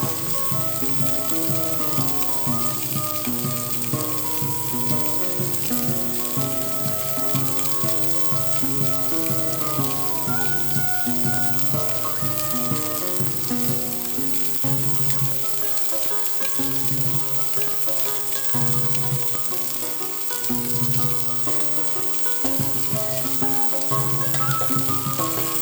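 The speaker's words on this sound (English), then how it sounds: "ASMR sizzle." Lamb lollipops fry in a pan with a loud, continuous sizzle and dense crackling spatter, close and steady throughout, with no talking.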